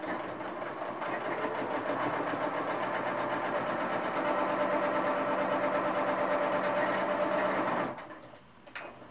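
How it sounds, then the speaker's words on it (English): A sewing machine runs steadily while stitching and backstitching the seam of a handmade cloth doll body, a close continuous mechanical whir for nearly eight seconds before it stops. "Making sure that I backstitch to secure the seam on both ends of that opening."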